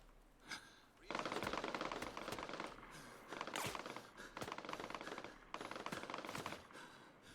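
Automatic gunfire from the video game Get Even, played on PC, comes in loud, dense rapid bursts with short gaps, one opening shot followed by three sustained volleys.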